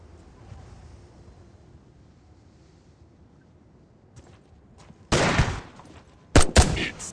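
Two loud, sharp blasts of shotgun fire ring out in the online survival RPG Tomorrow after several seconds of near silence, the second one a little over a second after the first.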